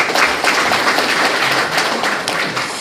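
An audience at a civic group's founding ceremony breaks into sustained applause, a dense, even patter of many hands clapping at close range, without voices over it.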